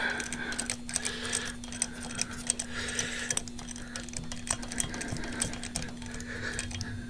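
A socket wrench ratchets on a corroded bolt while a Chevy LS 5.3 engine is being taken apart, giving rapid steady clicking with a faint hum underneath, close and moderate in level, with no talking.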